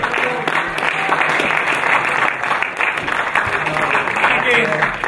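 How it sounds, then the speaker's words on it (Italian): Audience applause for Fabio at the Moto Club Spinea 50th anniversary celebration, a dense, steady wash of many hands clapping throughout, with voices mixed in underneath. "E quindi l'applauso che va a Fabio."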